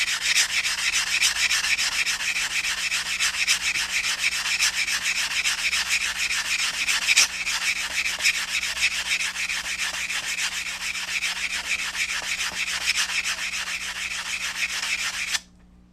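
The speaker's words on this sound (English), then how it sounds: "This is just a nail file block I got from Walmart, but it works really good at smoothing the cut edge." A nail file block rubs the cut edge of a metal coin ring in a steady, close, continuous rasping stroke that runs for about fifteen seconds before stopping abruptly.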